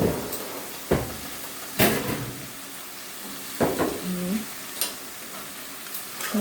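Spice paste with salt and garam masala powder frying in a pan for a chicken dish, a steady low sizzle broken by several sharp scraping stirs of a spoon against the pan at irregular intervals.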